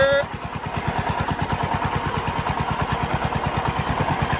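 A tractor engine runs with a steady, rapid, low-pitched chugging throughout, loud and close, with an even mechanical pulse.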